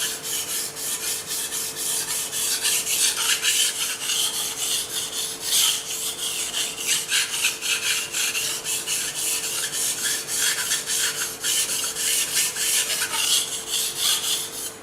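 Japanese nakiri knife blade being sharpened on a Japanese water stone, a continuous rhythmic rasping scrape of steel on stone, close and steady with no voices.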